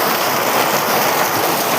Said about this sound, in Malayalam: കണ്ടോ എന്താ മഴ, പെരുമഴ, പെരുമഴ, പെരുമഴ